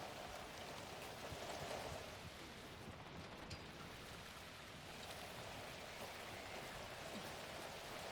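Light sprinkling rain in the Alan Wake 2 game, a soft, steady hiss of patter that holds at an even, low level throughout with no voices.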